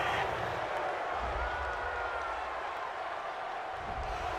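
A stadium crowd at a gridiron football game reacts to a roughing-the-passer penalty call with a continuous, moderately distant roar of murmuring and booing that holds steady without sharp peaks.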